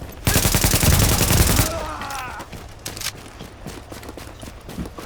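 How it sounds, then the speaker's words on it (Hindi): Rapid bursts of automatic gunfire in The Division, loud and dense for over a second, then scattered distant shots and thuds in a dark-zone firefight, with faint voices nearby. "स्नाइपर मार रहा है।"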